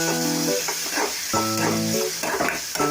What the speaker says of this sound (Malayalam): ഇനി അത് എല്ലാം കൂടി ഒന്ന് നല്ലതുപോലെ ഒന്ന് ഇളക്കി യോജിപ്പിക്കണം